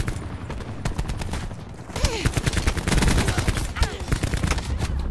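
Gunfire in Call of Duty: Black Ops 4 rattles in rapid bursts of loud, close shots, with a near-continuous run of automatic fire in the second half and a voice talking underneath.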